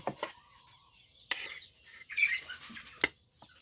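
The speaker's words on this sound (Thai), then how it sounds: "ใส่มะเขือลงไปเลย" Eggplants dropped into a pot for Isan-style eggplant soup: a few sharp clatters and knocks of vegetables and utensils against cookware, scattered between quieter stirring, close and fairly faint, with no talk.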